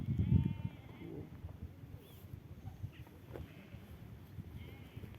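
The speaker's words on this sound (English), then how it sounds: "And there are many sheep." Sheep bleat on open hillside grazing land in a national park, one fairly loud bleat at the start followed by fainter scattered calls over quiet outdoor background.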